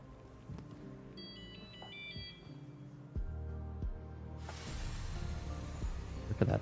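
A cell phone ringtone in a video game trills as a faint, thin, beeping melody early on amid quiet game ambience, followed by louder rumbling and noisy game sounds.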